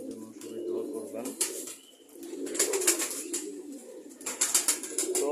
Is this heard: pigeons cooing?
yes